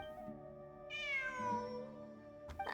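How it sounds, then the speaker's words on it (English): A cat in the Genshin Impact video game gives one clear, drawn-out meow that rises and then falls, close and alone, followed by a short sharp noise at the end. "It really is a cat."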